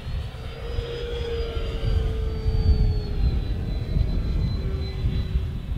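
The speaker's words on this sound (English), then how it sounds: "What a beautiful airplane." An E-flite Draco 2.0m RC airplane powered on 4S batteries flies overhead, its motor a steady whine that drifts in pitch as the plane passes, over constant low wind rumble with no voices.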